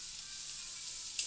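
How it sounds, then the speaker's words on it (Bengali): Dried fish (shutki) heads frying in hot oil give off a faint, steady, bright hiss with one small pop near the end. "আমি তেলে ভাজতেছি।"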